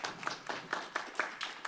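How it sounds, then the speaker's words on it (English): A small audience gives a sparse round of applause for two people, a handful of irregular, fairly faint claps spaced out over a couple of seconds. "Let's give a round of applause for Mike and Bill."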